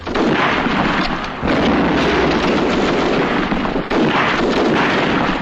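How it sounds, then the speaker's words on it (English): Mortar shell blasts in a 1944 British WWII war film come as a continuous loud, dense roar of explosions and rumbling battle noise, with sharp surges at about 1.5 and 4 seconds. "Mortar."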